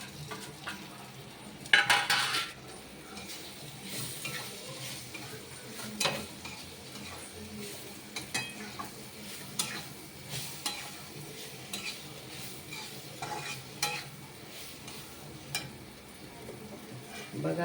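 Sweet raw mango pickle with chili powder and salt fries quietly in a pan under a soft, steady sizzle. A utensil scrapes and clinks against the pan in repeated stirring strokes.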